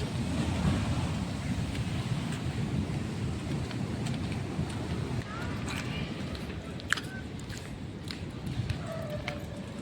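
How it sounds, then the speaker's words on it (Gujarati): Continuous roar of ocean waves surging, broad and rumbling, with occasional sharper splashes and faint sounds in the distance. "ચાર એવા મોજા ઉછલી રહ્યા છે જોઈ લ્યા"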